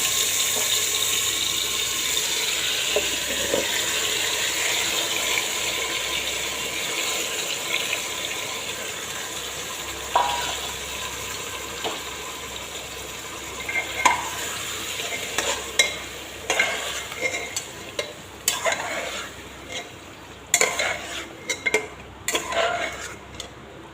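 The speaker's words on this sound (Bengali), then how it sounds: "গরম তেলের মধ্যে সব মাংস ছেড়ে দিলাম।" Meat fries in hot oil in a pan, a broad, steady sizzle at first that gives way to irregular clanks and scrapes from stirring as it goes on, all close by and with no speech.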